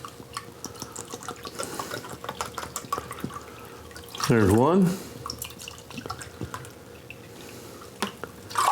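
Two cups of water poured from a tap into a saucepan, a short loud burst of running water in the middle, surrounded by softer clinks and kitchen handling with a brief spoken remark.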